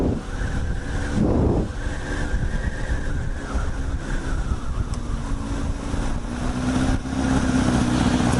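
A motorcycle being ridden on the way to a bike night, with a steady engine drone and shifting pitch heard close up under heavy wind rush, no talking.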